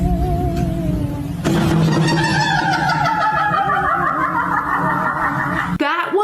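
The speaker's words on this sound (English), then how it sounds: "The door made that sound." A creaking door in a darkened house lets out a long, wavering, sliding creak that sounds uncannily like snickering laughter. It starts abruptly partway through, runs loud and near for several seconds, then cuts off sharply.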